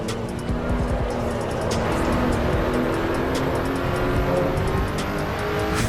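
A race car in Assetto Corsa EVO drifts through a corner with a slightly stiff suspension, engine droning steadily while tires scrub and squeal throughout, loud and close.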